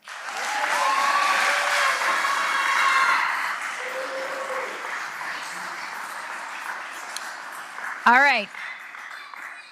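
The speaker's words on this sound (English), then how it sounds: "I'll let you clap for that one." Applause from the audience at a school board trustees meeting recognizing student swimmers, moderate clapping that swells early then fades, followed by a brief electronic warbling tone and someone speaking briefly.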